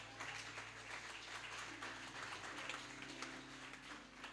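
Congregation in church applauding and cheering for the Lord, a dense, steady wash of clapping at low volume, sustained throughout with a faint hum beneath.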